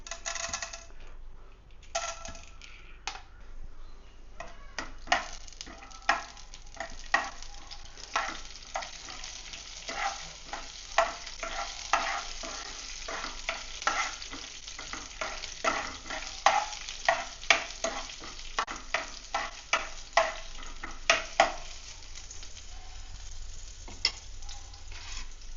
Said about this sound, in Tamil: அதுக்கப்புறம் பட்டாணி பருப்பு போட்டுக்கலாம்.